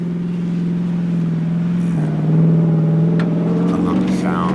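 A 2023 Ford Raptor R pickup truck engine rumbles steadily at close range, swelling louder partway through as the exhaust note deepens, with some talk faintly beneath.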